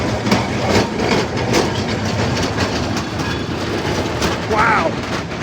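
A vintage tram runs at the Sydney Tramway Museum during its 60th anniversary, a steady loud rumble with rhythmic wheel clatter on the rails and a brief squeal near the end.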